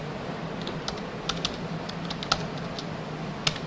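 Fingers tap on a computer keyboard in short irregular bursts, light clicks with a few sharper keystrokes, close but fairly quiet over faint room noise, no talking.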